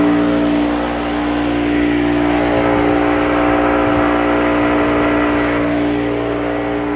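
A pump at a fertilizer and chemical blend station runs loud and steady for mixing and loading, a constant mechanical drone with a strong hum and no voices.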